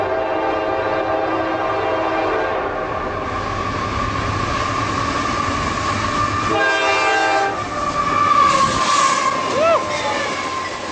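Freight train rolling past a busy station in Rochester, NY, with a loud horn, rumble and clatter of wagons throughout, and someone talking over it.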